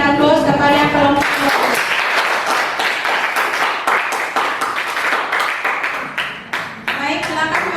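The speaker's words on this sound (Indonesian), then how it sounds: "jadi kita berikan aplaus kepada kelompok" A classroom group at SMA Negeri 1 Fatuleu high school gets a burst of dense applause: many hands clap loudly for several seconds before tapering off, with voices speaking just before and after.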